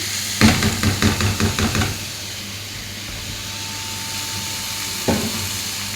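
Red and green peppers sizzle in a hot frying pan, a loud steady hiss with a brief burst of stirring or scraping at the start and another clatter near the end.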